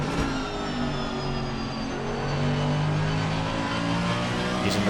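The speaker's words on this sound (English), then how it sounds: "Just listen to the car as it does not want to turn for the second apex." A race car engine drones at high revs through Spoon Curve at Suzuka in Assetto Corsa Competizione, a loud, steady whine with small pitch shifts as the throttle is worked, continuous and without speech.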